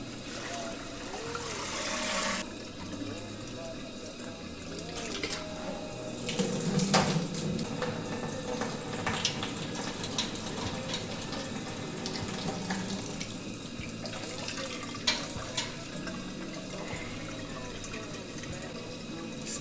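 Beer wort draining from a lifted brewing basket while brewing a Bohemian Pilsner, a steady splashing trickle of liquid running throughout with a few louder clanks and brief voices in the background.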